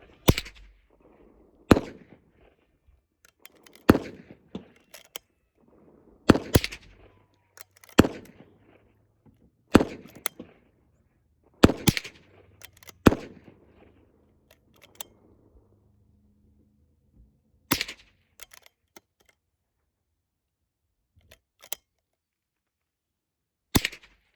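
A .22 rifle fires at an outdoor shooting practice range, about a dozen sharp, fairly close cracks spaced a second or more apart with quiet gaps between, the shots thinning out toward the end.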